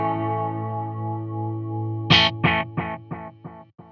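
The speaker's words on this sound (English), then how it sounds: "you can hear that the delays are getting darker and as they trail on" Guitar played through a warm, modulated analog delay: a sustained chord, then a sharp strum whose repeats echo about five times, each quieter and darker than the last.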